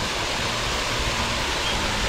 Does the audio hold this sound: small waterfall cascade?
yes